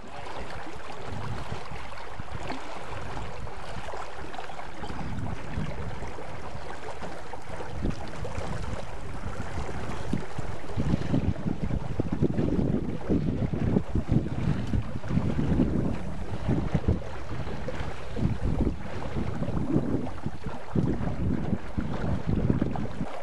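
Wind rushes across a sailboat under way on a broad reach with the breeze nearly astern, a steady, moderately loud buffeting with gusty swells and water wash, and no voices.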